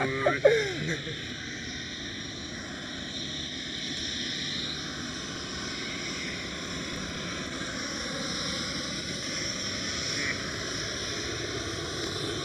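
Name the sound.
Austrian Airbus A320ceo taxiing at Schiphol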